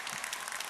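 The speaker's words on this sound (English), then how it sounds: "Give yourselves a round of applause, everybody out there." Audience applause at a leadership development program, a short burst of dense, steady clapping from many hands.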